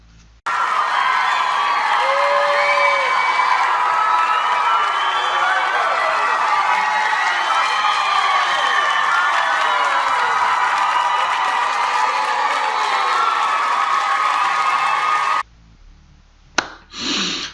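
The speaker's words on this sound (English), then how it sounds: "you guys need to give yourself a round of applause too" Crowd applause with cheering and whoops at a crypto market talk, loud and dense for about fifteen seconds before cutting off abruptly.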